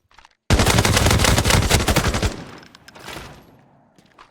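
Rapid burst of automatic gunfire firing purple-tier ammo in the shooter game Arena Breakout Infinite, a loud dense string of shots lasting about two seconds before fading into echoing tail.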